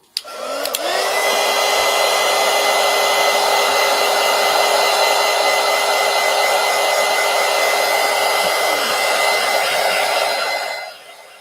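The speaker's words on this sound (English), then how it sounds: "Let me plug in my heat gun." Heat gun blowing hot air to dry gouache and acrylic marker paint, a steady loud whoosh that starts with a click and runs unbroken for about eleven seconds before cutting off, close up.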